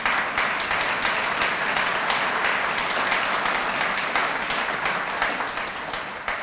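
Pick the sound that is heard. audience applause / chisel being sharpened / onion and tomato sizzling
audience applause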